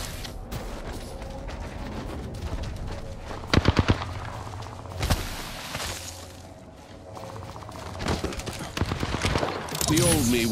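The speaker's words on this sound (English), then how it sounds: "Being shot at." Gunfire in the Apex Legends video game, with bursts of rapid shots and single cracks scattered among in-game effects and ambient noise, loudest in a quick volley near the middle and a burst near the end.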